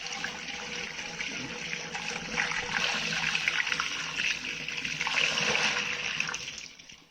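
Sugar water pours steadily through a funnel into a beer fermenter while brewing a no-boil Belgian beer kit, a continuous rushing splash that runs for several seconds before tapering off at the end.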